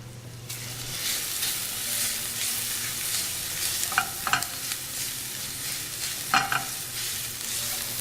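Minced garlic and ginger hit a hot pan and fry with a steady, close sizzle, broken by a few brief scrapes and clicks of stirring partway through.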